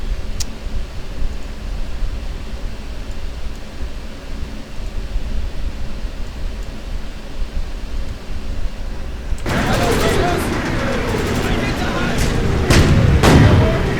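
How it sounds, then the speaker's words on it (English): Artillery shells pounding a German Panzer tank in the Sudden Strike 3 war strategy game, a steady rumble of gunfire that erupts into loud, dense explosions and sharp blasts for the last few seconds. "Panzer's taking mighty hits."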